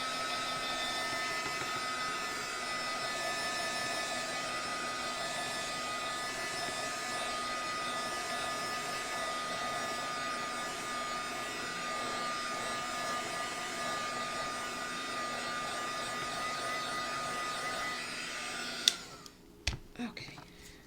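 A small electric dryer blows a steady, even whir for about nineteen seconds while drying wet paint on a door tag, then cuts off, followed by a few faint clicks and handling sounds.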